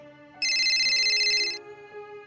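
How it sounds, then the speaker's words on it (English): A work phone rings with a bright electronic trill that bursts in loudly and holds for about a second over a quiet musical background, then stops. "My work phone rang,"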